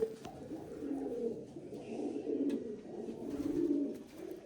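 Pigeon cooing, low and throaty, repeating in soft rolling phrases close by with no talking.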